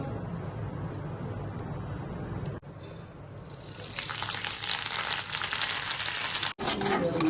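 A tempering of lentils, cumin and mustard seeds frying in hot oil, a soft crackle that swells into a loud, bright sizzle partway through, with no talking.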